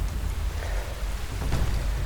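Heavy, incessant rain pours down during a life-threatening storm on an abandoned track, a dense, close hiss with a low rumble underneath, continuous and unbroken.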